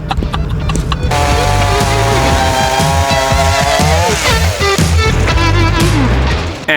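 An off-road vehicle drives through bush, its engine droning loud and close with shifting revs and rumbling low tones, plus knocks and bumps from the rough track throughout.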